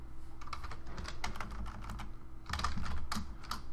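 Keys clatter steadily on a computer keyboard in a quiet room, a fast run of close, crisp clicks that briefly grows busier and louder near the end, with no one speaking.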